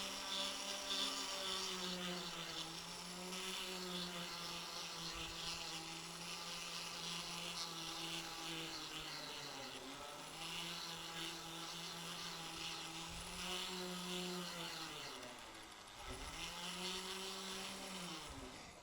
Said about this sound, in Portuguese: Então eu passo um pouquinho de lixa na quina aqui